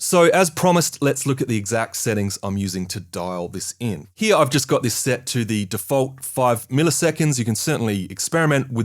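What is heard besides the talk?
No everyday noises stand out.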